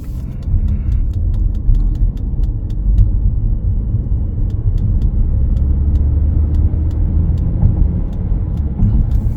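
A 2023 Audi A6 S line Premium accelerating hard at full throttle on a long empty road, a steady loud low engine and road rumble from inside the cabin, with faint regular ticking above it throughout.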